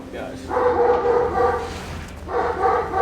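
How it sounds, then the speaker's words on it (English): A dog barks repeatedly in bursts of loud, nearby bow-wow barks, with a person talking over the top. "this dog won't stop"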